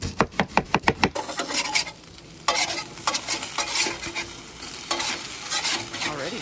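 On a Blackstone griddle, thick onion slices and thin potatoes fry: quick rhythmic spatula scrapes and taps open, then a continuous close sizzle with occasional scraping bursts.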